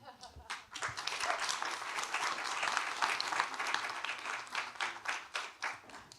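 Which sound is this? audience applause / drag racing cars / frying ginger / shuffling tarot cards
audience applause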